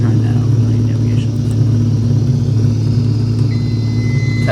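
A Cessna 172SP engine in flight-simulator play runs at 1,000 RPM with a rich mixture, a steady, loud droning hum that continues evenly throughout.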